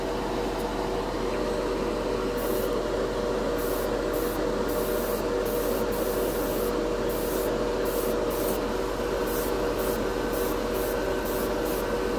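Gold chrome paint from a spray can hisses in a continuous, fairly loud broadband stream for about twelve seconds, with brief pulses as the nozzle is pressed and released, while the paint coats matte plastic spoons.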